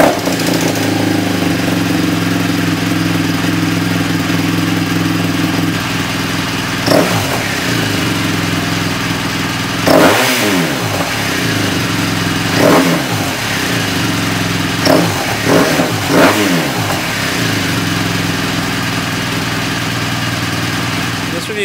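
A 2013 BMW R1200GS motorcycle with an SBK slip-on exhaust idles steadily, then revs in several sharp bursts with a throaty exhaust note; some talking can be heard underneath.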